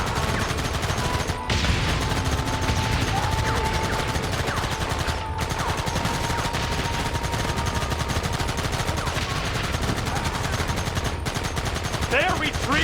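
A Red Dead Redemption shootout fills the air with rapid, continuous gunfire, dense crackling shots overlapping without pause for the whole stretch, with brief gaps and faint shouting voices underneath.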